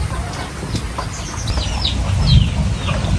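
Chickens clucking nearby while being fed, several short bird calls scattered over a steady outdoor background, with one louder low thump midway.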